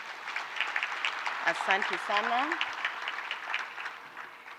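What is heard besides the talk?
audience applause at a seminar opening ceremony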